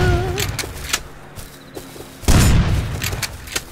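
Gunfire in the survival game Rust: scattered sharp shots around a town area, then one loud, booming shot that rings out over a steady low background hum.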